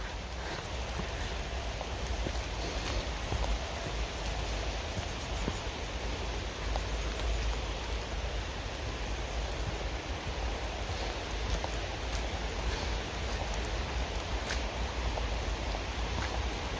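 Steady outdoor rain on grass and ground, a dense, even hiss of falling drops that holds at a constant moderate level with no talk.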